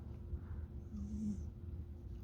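A pet cat settling into a small enclosed hiding spot, giving a soft, low vocal sound near the middle of a quiet stretch with faint background hum.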